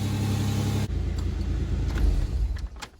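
A 1997 Ford Ranger engine idles after an oil change with a loud, steady rumble that cuts to a quieter, lower hum partway through, with faint clicks and knocks near the end.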